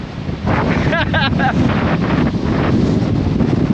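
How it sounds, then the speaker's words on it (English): Strong wind roars and buffets the microphone on a mountain top near the Appalachian Trail, a loud continuous rumble, with a voice calling out briefly near the start. "This wind is strong enough to blow you over."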